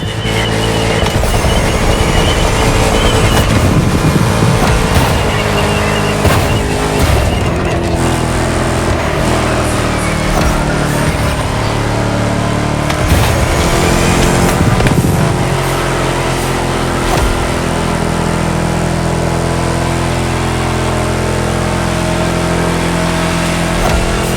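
A Chrysler SRT8 race car in The Crew Motorfest, its V8 Hemi engine roaring loud and constant with revving surges, gear changes and brief tire squeal throughout, no speech.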